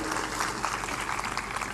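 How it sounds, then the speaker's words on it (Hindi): Audience at a Hindi religious discourse clapping together, a steady dense burst of applause filling the short clip without pause. "तो अपन ताली बजाओ, इनका उत्साह बढ़े"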